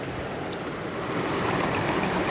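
Fresh water sloshes and swishes steadily in a gold prospecting pan shaken back and forth, a close, continuous watery wash with no voices.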